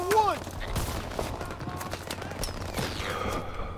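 Battlefield gunfire in Call of Duty WW2 during the Battle of the Bulge, rattling from the woods: a steady fusillade of scattered shots at mid-distance, with a voice and a whistling streak briefly on top.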